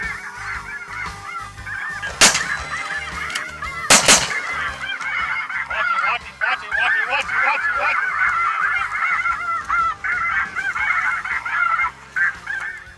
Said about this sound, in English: Geese are coming in early, lighting away from us.